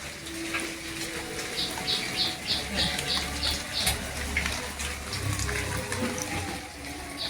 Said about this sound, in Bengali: কত বৃষ্টি হচ্ছে।